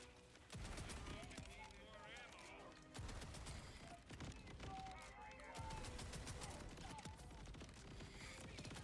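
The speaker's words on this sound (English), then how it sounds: "They're shooting each other." Gunfire in the video game Borderlands 4 comes in loud bursts of rapid shots separated by brief gaps, with game music and effects layered underneath.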